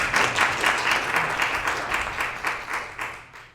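An audience claps steadily for a speaker taking the stage at a talk, a dense, fairly close wash of applause that gradually thins toward the end.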